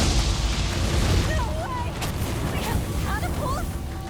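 Catapult boulders slam down in Resident Evil 4's castle, a heavy continuous low rumble of booms with whistling, swooping tones drifting over it, loud and sustained throughout.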